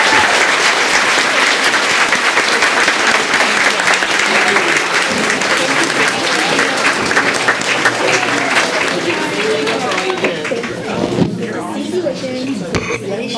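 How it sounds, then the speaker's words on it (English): Audience applause at a Pasadena ISD school board of trustees meeting, steady dense clapping filling the room for several seconds, with voices murmuring underneath as it tapers near the end. "Let's give them a big round of applause."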